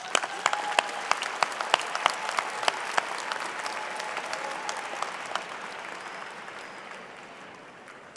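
Applause from a winter commencement audience for degree candidates, a broad sustained patter of many hands in a large hall with sharp individual claps standing out, gradually tapering off.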